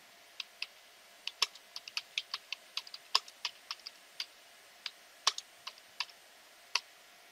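Keys tapped on a computer keyboard while entering a Linux command, sparse individual clicks at an uneven pace with a few sharper presses, close and clean over quiet background.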